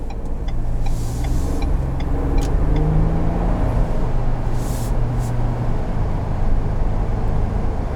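A 2022 Ford Bronco Badlands Sasquatch with a six-cylinder engine accelerates on pavement, heard from inside the cabin. A steady low engine rumble and road noise run the whole time with no talking.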